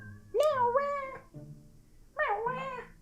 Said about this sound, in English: very frequently he does this like meow sound that sounds like Kraid from Super Metroid